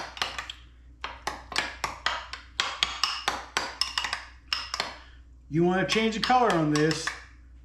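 Food being mixed in a pan: a fast series of sharp metallic taps and scrapes of a utensil against the pan, close and distinct, followed by a voice speaking over it.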